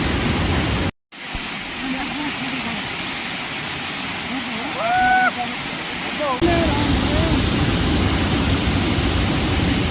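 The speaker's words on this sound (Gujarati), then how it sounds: "અહીંથી ધોધ અદભુત" A steady, loud roar of a waterfall from an overflowing village pond in the monsoon fills the scene, with birds chirping over it and a brief dropout near the start.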